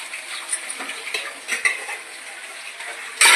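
Turmeric powder goes into a cooking pan from a spoon, with light scraping and small metallic clinks of the spoon against the pan, ending in a louder, sharper clatter.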